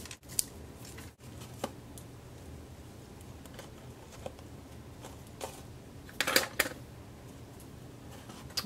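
Scissors snip paper in a run of quiet, close cuts with small rustles between, trimming pieces for a welcome birdhouse craft, ending in a brief cluster of sharper snips.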